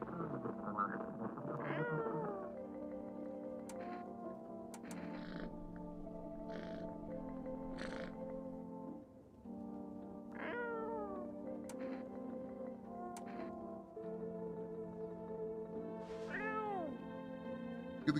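A cat meows repeatedly in long, wavering, drawn-out cries, some rising into caterwaul-like wails, over a continuous low droning hum, with no talk in between.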